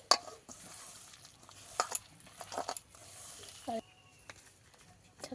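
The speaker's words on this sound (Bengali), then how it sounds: "বেসনটা দিয়েও ভালো করে মেখে নেব।" Gram flour is worked by hand into shrimp fritter batter, giving soft, irregular squelching and sticky mixing sounds in short bursts, with people talking nearby.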